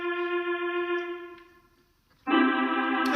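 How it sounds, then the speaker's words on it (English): A synthesized brassy cornet tone in Pianoply plays a sustained note that fades away, then after a short gap a brighter, louder note sounds, with no voices present. "I believe it's the cornet."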